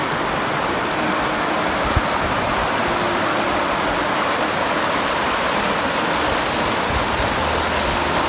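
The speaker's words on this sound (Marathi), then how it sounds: "हा इथे छोटासा बंधारा बांधला आहे पाणी अडवण्यासाठी" Steady, dense rush of monsoon water pouring over a small check dam in Konkan, India, continuous and fairly close, with no voices.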